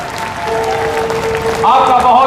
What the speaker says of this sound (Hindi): जोरदार ताली आनी चाहिए